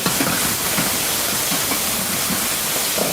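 Steady loud sizzling hiss of chicken stir frying in a hot wok, continuous and close, with faint clanks underneath and no talking.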